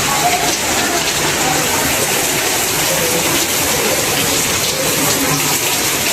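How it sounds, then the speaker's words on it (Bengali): Heavy rain pours outside during a storm, a loud, steady, dense wash of hissing noise that continues without a break. "বাইরে প্রচুর বৃষ্টি হয়েছে, এখনো থামার নাম নাই"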